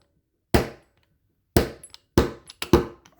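Four sharp metallic taps in an irregular sequence, close and distinct, each followed by a short ring, with silence between, tapping a wrist pin out of a piston from a 1983 Suzuki GS1100E.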